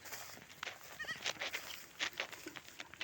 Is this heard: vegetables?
no